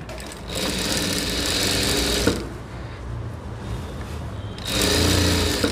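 A sewing machine runs a double row of stitches on a blouse, whirring in two fast continuous bursts with a short, quieter pause between them, close and steady.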